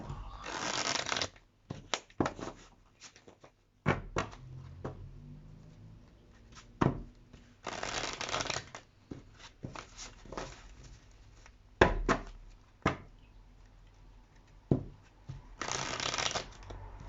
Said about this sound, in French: on va commencer le tirage avec l'oracle des Médéors de Stéphanie Abélan